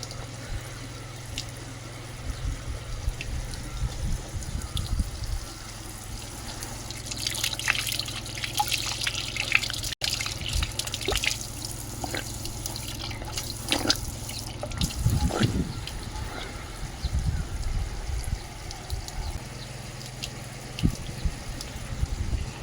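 Water streams and trickles steadily beside a small village temple in a remote Uttarakhand hillside village, with dripping splashes and occasional louder gurgles throughout.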